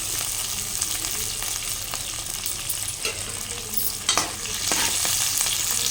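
Onion, green chilli and curry leaves sizzle in a hot pan under steady stirring, a dense close crackle with occasional scrapes and knocks of the spoon and no talk.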